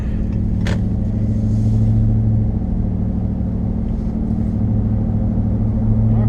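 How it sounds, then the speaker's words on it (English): A car with a loud muffler idles or runs steadily, a deep, throbbing exhaust rumble held close and continuous, with a brief click near the start. "The muffler became loud."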